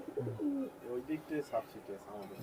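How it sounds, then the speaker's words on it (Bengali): Soft, repeated cooing from pigeons close by in a pigeon loft, a few rhythmic coos in quick succession with a quiet voice mixed in. "এটা মাদি এটা নর অনেক দামি পায়রা অনেক দামি পায়রা"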